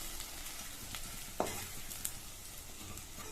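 Grated coconut masala with gram flour sautés on a low flame in a cooker, a faint soft sizzle broken by a couple of short spoon scrapes as it is stirred.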